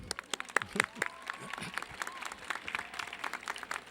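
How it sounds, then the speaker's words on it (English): A large audience at a university freshman convocation claps and cheers, dense applause with scattered whoops and voices throughout, loud and steady. "Yeah, cheer is good. Clap."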